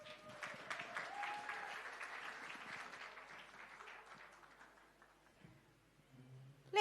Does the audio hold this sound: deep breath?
no